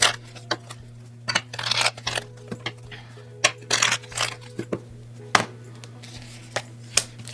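A Kim Krans tarot deck being shuffled by hand: quick papery riffles and soft card slaps come in short, uneven bursts, close and fairly quiet, with no talking.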